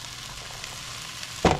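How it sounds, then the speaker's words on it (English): Broccoli pieces and corn sizzle steadily in a hot pan while being stirred to warm through, a soft continuous frying hiss with a brief louder scrape near the end. "I'm just going to keep moving this around the pan until it's nice and warm."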